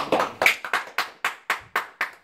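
Eight distinct hand claps in a steady, even rhythm, close and fairly loud, with short silences between them and no talking.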